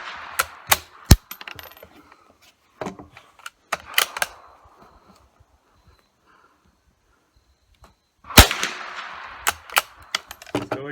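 Sharp gunshots from a Remington 581 rifle fired outdoors, a burst of several quick cracks at the start, a few isolated shots in the middle, then another cluster near the end, loud and close with quiet gaps between.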